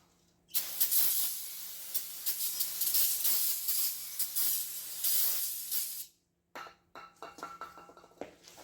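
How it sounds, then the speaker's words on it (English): A loud brake cleaner aerosol spray hisses steadily for several seconds, pauses, then resumes in shorter sputtering bursts, close by, while cleaning rear-end axle parts. "I'm going to clean these up with a little brake clean spray"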